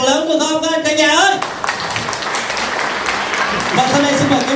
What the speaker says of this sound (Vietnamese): Xin mời quý vị dành một tràng vỗ tay thật lớn được không cả nhà ơi.